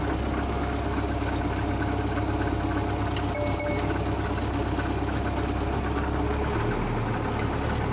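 A 2014 MTZ 82 tractor engine idles steadily and evenly, a loud, continuous low diesel rumble with a constant mechanical hum and no breaks, close by with no talking.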